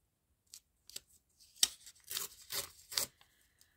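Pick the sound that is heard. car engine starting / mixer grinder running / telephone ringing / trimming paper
trimming paper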